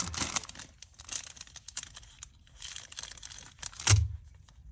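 Plastic poly mailer crinkling and rustling in close bursts as a Halloween sticker is pressed on, with a sharper crackle near the end.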